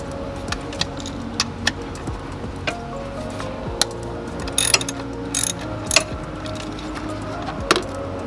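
Hand ratchet clicking in quick bursts while a bolt is backed out on an Infiniti Q50/Q60 during an oil catch can install, close up with small metallic clinks between strokes and no talking.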